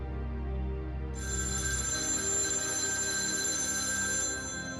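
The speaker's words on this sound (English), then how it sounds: "A phone rang." A telephone rings with a bright, steady electronic bell tone that starts after a low hum and sustains loud and clear, then cuts off near the end.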